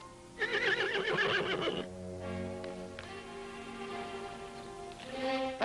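A horse gives one loud, shrill, quavering whinny from somewhere behind the riders on a Nevada ranch in a 1946 western, followed by lower trailing snorts and fainter calls.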